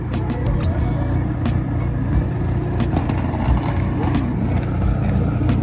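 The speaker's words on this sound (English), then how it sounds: "This thing is so crazy. It's got 4 exhausts." A drift car fitted with four exhausts runs loud and steady at an airport drift event, its engine rumbling continuously with a broad, gritty roar and occasional sharper bursts throughout.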